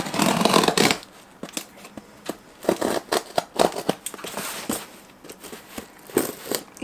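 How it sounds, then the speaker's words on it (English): Scissors snip and crunch through the wrapping of a large package, a loud burst of crinkling at the start followed by a run of sharp, irregular close cuts and rustles, with no talking. "we got this big package which I need scissors for"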